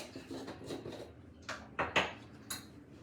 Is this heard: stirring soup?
yes